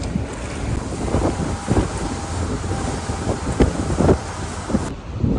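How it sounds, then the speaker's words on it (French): Strong wind buffets the microphone at Playa Balandra beach in Mexico, a constant loud rushing roar with gusty thumps and surf beneath, no voices. "il y a beaucoup de vent"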